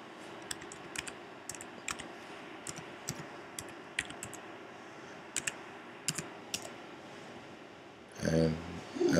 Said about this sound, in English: after you type SSH in terminal